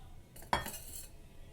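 A metal spoon clinks and scrapes against a small vessel while a home remedy is mixed, one sharp quiet knock followed by a brief rattle.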